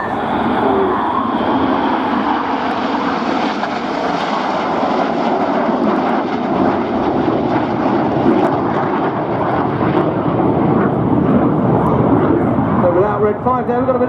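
Red Arrows jets flying a formation display at Scampton give a continuous, loud roaring rumble that swells and slowly shifts in pitch, with a commentator's voice running over it throughout.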